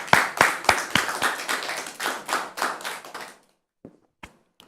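Audience applause welcoming a guest, a burst of close, rapid hand clapping from a small group that trails off into silence, leaving a few scattered final claps.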